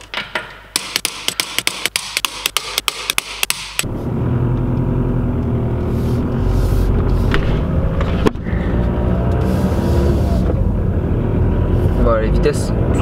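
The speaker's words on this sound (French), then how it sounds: "Je vais filmer un petit essai routier quand même parce que j'aimerais bien tester l'embrayage" A Volkswagen Touran on a road test, with a steady loud rumble of engine and road noise inside the car after a few seconds of sharp taps at the start, continuing alone without talk.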